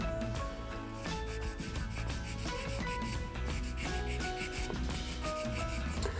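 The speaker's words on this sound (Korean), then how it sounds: "사포질 한번 해볼까요?" Sandpaper rubs back and forth on a vintage plastic Knight Gundam model kit, a steady rhythmic scraping close up in short repeated strokes, with no one talking.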